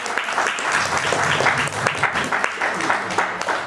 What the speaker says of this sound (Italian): farei intanto un applauso ai nostri ospiti